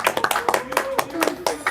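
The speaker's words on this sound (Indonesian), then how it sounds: "Tepuk tangan dulu dong" A short burst of clapping at a student computer-science association event, several quick sharp claps scattered through the moment with voices talking over them.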